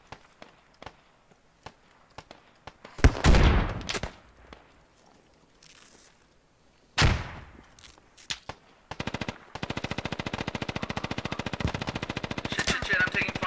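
Gunfire in the Squad video game: scattered single shots, two louder bursts of nearby fire, and then a sustained rapid automatic volley toward the end. Faint footsteps and movement sounds fill the gaps between the shooting.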